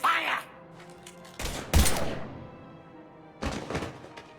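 Gunfire bursts in the Mass Effect video game, two heavy close blasts in quick succession followed later by another volley, with faint game ambience in the gaps.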